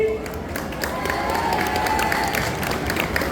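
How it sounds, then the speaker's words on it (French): Audience applause and cheering at a cosplay contest finale in Le Mans, a dense, steady wash of clapping from a crowd with scattered shouts, loud and continuous throughout. "je vous demande un peu d'applaudissements pour Captain Ghostly."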